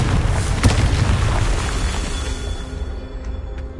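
A Confringo blasting-curse explosion in the Hogwarts Legacy video game: a deep, loud boom that rumbles and fades away over a few seconds.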